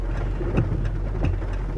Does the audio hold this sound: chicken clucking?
no